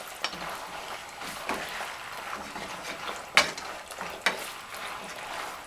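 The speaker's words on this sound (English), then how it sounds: "you mix it all together." Yuca alcapurria dough with tomato sauce being stirred and mixed in a bowl, a steady soft scraping and churning with a few sharper knocks of utensil against the dish, close and continuous.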